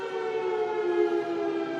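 A civil defence siren wails continuously in flood-hit Wairoa, New Zealand: a loud, sustained, steady tone with no voices over it.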